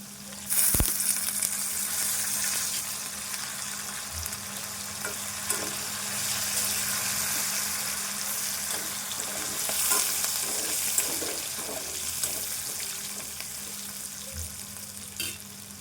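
Curry leaves crackle and sizzle in hot oil while cooking a potato fry, a steady close frying hiss with occasional pops and stirring scrapes, no voices.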